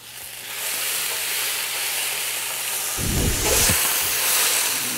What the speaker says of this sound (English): these potatoes are getting a little brown on the bottom, just about right